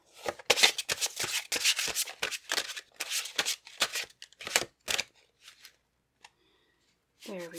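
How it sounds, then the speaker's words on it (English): Tarot cards shuffled close by, a rapid series of crisp papery slaps and riffles for several seconds, then a few faint taps and a brief voice at the end. "as I shuffle everything"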